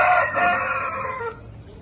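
A rooster crows loudly and close, one long strained call that trails off into quieter clucking from nearby fowl in a backyard poultry setup.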